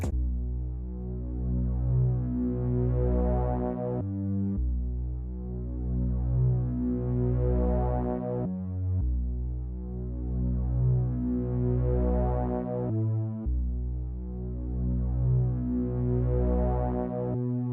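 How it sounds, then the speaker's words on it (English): A deep, buzzy Moog-style synth bass from Omnisphere plays a slow repeating line of long sustained notes with brief changes between phrases, alone and loud. "I used this Growler Moog bass from Omnisphere"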